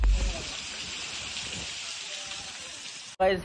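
Steady, dense rain hiss fills the clip, with a brief break and a short burst of different noise near the end.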